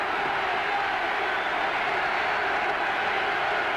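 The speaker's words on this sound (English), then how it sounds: "Crowd getting into the ball game now, yelling defense" A large crowd roaring in a college football stadium during the 1984 Oklahoma Sooners versus Nebraska Cornhuskers game, a dense, continuous, loud wash of voices and yelling filling the whole stretch.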